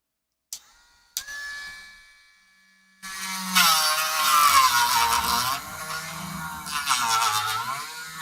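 A rotary tool fitted with a diamond tip spins up and grinds steadily against a workpiece, a high whining buzz that wavers in pitch for several seconds after brief clicks and a short spin-up.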